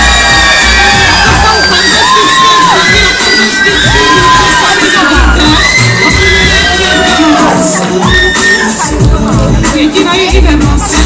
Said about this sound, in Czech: A teď tedy poprosím opravdu ohromný potlesk.